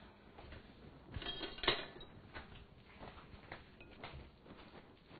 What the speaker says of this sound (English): I'm going to grab a spoon. We're going to give it a stir.